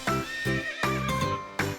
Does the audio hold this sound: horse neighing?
yes